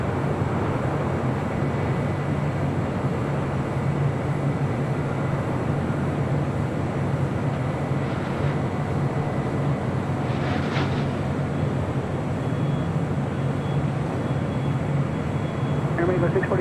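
Airplane rolling along the runway at LAX airport, a steady broadband engine roar that stays loud throughout with a low hum underneath and brief faint higher whines.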